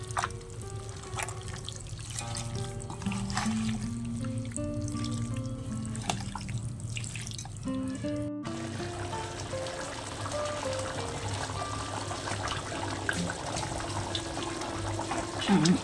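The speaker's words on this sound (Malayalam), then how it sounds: "നല്ലോണം ഒന്ന് മിക്സ് ചെയ്തിട്ട് വെള്ളം ഒഴിച്ചിട്ട് വേവിക്കാൻ വെക്കട്ടെ." Water is poured into a cooking pot of beef, a steady running, splashing stream lasting many seconds, with a faint melody playing softly underneath.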